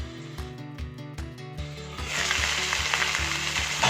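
Small shallots fry in a little oil on a tawa next to lady fish being shallow fried. After a stretch of rhythmic tonal thumps, a bright crackling sizzle comes in and keeps going steadily to the end.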